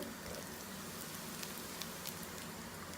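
Bulgur toasting dry in a pan gives a faint, steady crackle and light patter, with sharper pops scattered through, no voices over it.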